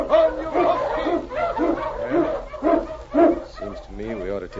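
A team of husky sled dogs barks in a rapid, rhythmic series of close, loud yelps and bow-wows, ending with a higher whimpering cry.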